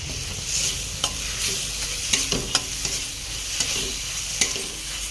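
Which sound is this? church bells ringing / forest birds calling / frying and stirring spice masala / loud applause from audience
frying and stirring spice masala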